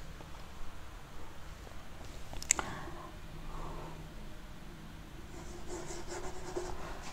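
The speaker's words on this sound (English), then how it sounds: "I am writing." Pen or pencil writing by hand on paper, a steady soft scratching that runs throughout with a few small taps, close and fairly quiet.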